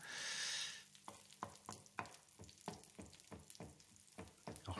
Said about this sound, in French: je vais faire sauter mes croûtons pour pas que ça noircisse que d'un côté